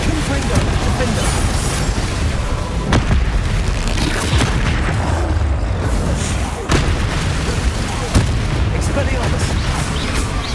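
Spell explosions in the Hogwarts Legacy PC game, heard as dense, loud rumbling blasts and sharp booms over a constant roar of game effects, with a few distinct cracks standing out.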